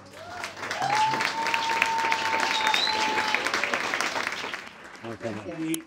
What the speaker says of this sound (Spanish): Un aplauso para Julia. Un aplauso para Jorge.